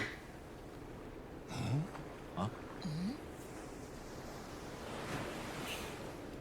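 Steady broadband ocean surf in open mid-ocean in the video game Yakuza: Like a Dragon: Infinite Wealth washes throughout, with a few brief snorting or voice-like sounds rising over it near the middle.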